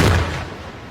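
A nitric acid explosive charge of about 70 grams detonates on a quarter-inch steel boiler plate, one loud sharp blast that decays quickly into a rumbling tail.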